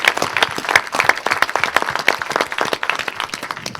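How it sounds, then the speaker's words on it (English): Lively applause from a live Q&A audience, brisk crisp clapping with distinct individual claps close by, steady and fairly loud throughout the few seconds. "there's a gentleman in the audience who I think also deserves a round of applause"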